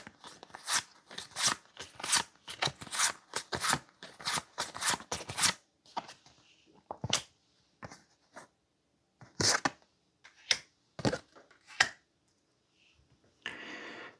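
Tarot cards shuffled and drawn by hand, with a dense run of quick riffling snaps and slaps for several seconds, then sparser single card flicks and taps separated by short pauses, close and crisp with no talk.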